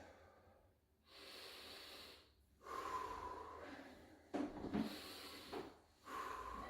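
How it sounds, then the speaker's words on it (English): Slow, deep breaths during a workout cool-down, several long audible inhales and exhales with pauses between them, close and fairly quiet, with no talking. "slow, deep breaths."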